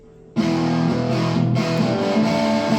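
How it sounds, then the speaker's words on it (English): Electric guitar through a homemade distortion pedal circuit with heavy distortion strikes in suddenly and sustains a thick, buzzing chord, briefly cutting and re-attacking, loud and alone. "you can adjust the level of distortion very basically through the volume knob."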